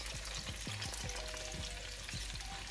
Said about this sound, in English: I'm gonna let these cook a little bit first with the bacon grease so I can put my squash in